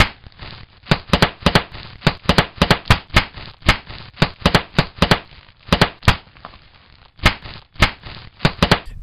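Bubble wrap popped by hand to mimic fireworks, sharp loud pops in irregular quick bursts and clusters, some doubled, with short quiet gaps between them.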